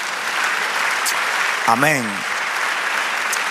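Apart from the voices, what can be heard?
church congregation applause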